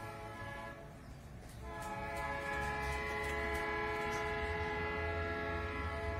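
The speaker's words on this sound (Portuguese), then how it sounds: "Eu tô escutando ele apitando, porque cada cruzamento ele tem que apitar." A long freight train of nearly 100 cars blares its horn for a crossing in long sustained tones, growing louder as it nears, with the low rumble of rolling rail cars beneath.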